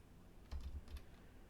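A short burst of typing on a computer keyboard: five or six quick, faint key clicks in a cluster near the middle, in a quiet room with no voices.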